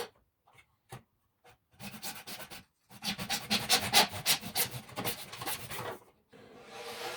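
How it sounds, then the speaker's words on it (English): A hand saw cuts through plastic conduit and a wooden dowel in short rasping strokes, starting with a few scattered scrapes before a quick steady run of back-and-forth rubbing, recorded fairly faintly. "I'm quickly going to cut the conduit and the dowel."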